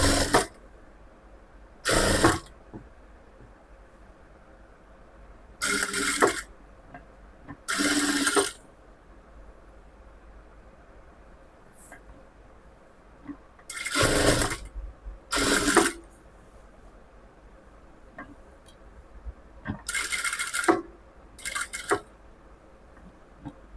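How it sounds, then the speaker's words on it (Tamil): A sewing machine stitches the layers of a fabric top, running in several short, brisk bursts separated by quiet pauses, close and clear without talking. "இந்த ஓரத்துலேருந்து தையல் போட்டு வரலாம்"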